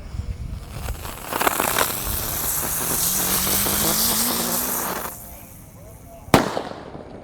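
Red lotus (teratai) ground fireworks burn outdoors with a loud, sustained crackling and whooshing spray for several seconds, then fade before one sharp bang near the end.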